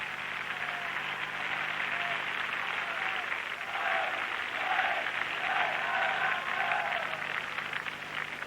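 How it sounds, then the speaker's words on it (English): A crowd applauds and cheers at the 1981 world gymnastics championships, a broad, slightly distant wash of clapping that swells midway through and holds steady. "There's the cheer"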